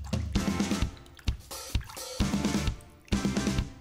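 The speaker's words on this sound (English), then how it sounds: "Coat the turkey in the breading and then dip it in water." A large piece of breaded turkey is dipped in water, making wet squishing and dripping sounds in several bursts with short pauses between them, close and fairly quiet.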